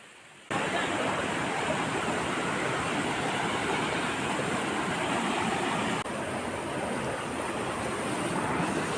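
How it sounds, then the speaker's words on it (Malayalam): Rushing water from a stream flowing through the middle of a forest, a steady, dense broadband wash that starts abruptly and holds constant, loud and close, with no voices. "അരുവികൾ"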